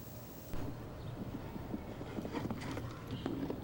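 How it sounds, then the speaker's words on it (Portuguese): Horse hooves clip-clop over an arena course during Olympic show jumping at the Sydney 2000 Games. The steady hoofbeats sit low and fairly faint within a thick, continuous wash of arena ambience. "Um bom cavalo."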